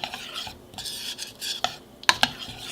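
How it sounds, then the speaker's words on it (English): A spoon stirs keto German chocolate mug cake batter in a mug, scraping and swishing briskly, then ends with a couple of bright clinks against the rim. "And then we're going to give this a quick stir."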